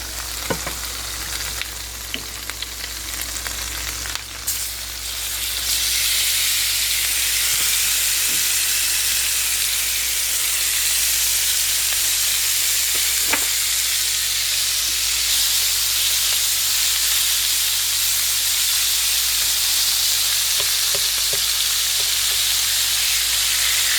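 Beef stew meat sizzles and fries loudly in a hot pan, a dense and steady hiss that holds unbroken for the whole stretch, close up with no talking.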